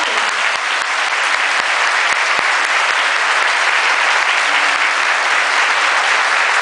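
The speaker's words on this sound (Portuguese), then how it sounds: "uma salva de palmas para Jesus" Sustained congregation applause fills a church, a dense steady wash of many hands clapping together at close range with no talk over it.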